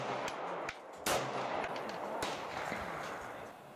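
Pistol shots crack out at an outdoor shooting range, fired from roughly 30 feet at a target: a string of sharp, loud reports at irregular intervals, the strongest just after the first second, with ringing tails between them.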